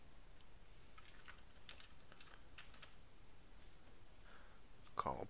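Keys clatter on a computer keyboard during setup of a webhook, soft and fairly close, in quick irregular bursts of taps and a few pauses, under a faint steady background hiss.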